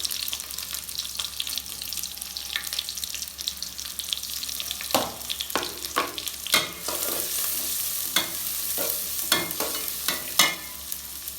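Chopped onions with cinnamon and cardamom fry in a pot, a steady close sizzle broken by repeated sharp scrapes and clinks of stirring, with no talk.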